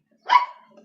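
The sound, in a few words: neighbour's dog barking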